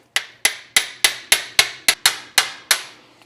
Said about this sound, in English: I've got an impact screwdriver and a PH4 Phillips number 4.